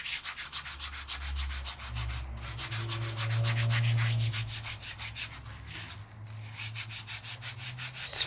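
Fine powder rubbed around on a Sizzix card base, a steady soft scrubbing that runs continuously at close range, with a low hum underneath.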